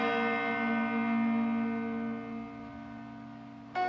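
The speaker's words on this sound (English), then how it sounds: "that church bell would ring every day, that there's a certain bell for a notice for the death" A single church bell tolling as a death notice, a sustained ringing tone slowly decaying, then a fresh strike sounding near the end, clear and alone.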